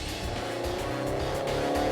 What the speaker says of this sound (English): it's the diesel engine that I'm driving first